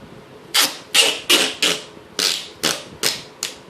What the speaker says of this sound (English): I'm going to take myself a length of duct tape.